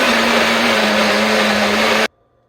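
A countertop blender whirring through frozen strawberries and blueberries, a loud steady motor roar with a constant hum, which cuts off abruptly near the end, leaving a faint hum before a brief noise returns.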